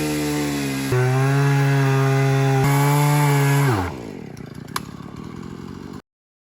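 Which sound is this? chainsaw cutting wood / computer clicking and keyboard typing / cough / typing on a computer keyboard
chainsaw cutting wood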